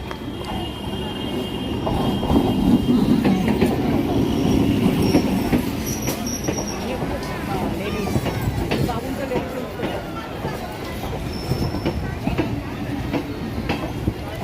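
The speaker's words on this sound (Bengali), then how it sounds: "চলে এসেছে আমাদের ট্রেন।" A train pulls into the station with a loud rumble, clattering wheels and high metallic squeals, steady and close for several seconds while people talk nearby.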